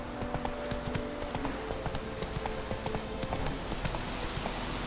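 Hooves of the horse Roach galloping in the video game Witcher 3, a quick, steady clip-clop rhythm of distinct hoof strikes, fairly faint, with a soft ambient bed underneath.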